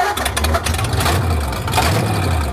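A 1931 Ford Coupe engine catches right away and settles into a rough, steady running chug, loud and close, with no talk over it.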